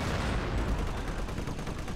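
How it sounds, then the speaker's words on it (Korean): Continuous dense machine-gun fire from a tank's coaxial gun in the Company of Heroes battle game, a steady rattling burst that fills the whole stretch with no talking. "어, 동축 기관총까지 나가면서"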